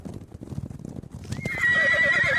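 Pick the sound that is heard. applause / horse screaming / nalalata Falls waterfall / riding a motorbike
horse screaming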